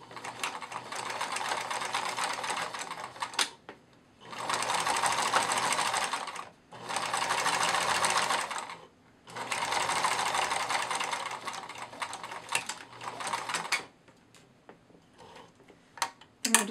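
Sewing machine backstitching plush otter fabric in four steady bursts of rapid stitching, each a couple of seconds long with brief pauses between, close and moderately loud.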